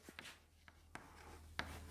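Teacher writing a new line on a board during a 10th-grade science lesson, a few faint scratchy strokes and taps spaced irregularly over a low steady hum.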